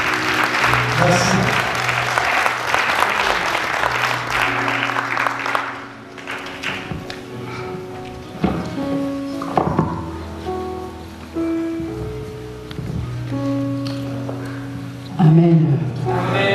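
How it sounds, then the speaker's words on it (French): A church assembly at a deaconess consecration service breaks into strong applause that fades after about six seconds, followed by a voice speaking briefly over sustained organ or keyboard chords. "Est-ce qu'on peut acclamer Dieu pour encourager la pasteur?"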